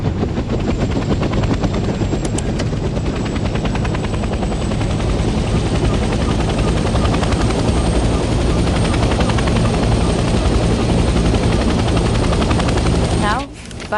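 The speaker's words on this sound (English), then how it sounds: "The helicopter will now take off automatically and remain in a hover state." A helicopter's rotor and engine roar continuously at close range as it takes off and hovers in Hell Let Loose Vietnam, a dense steady drone that holds for the whole stretch before cutting off at the end.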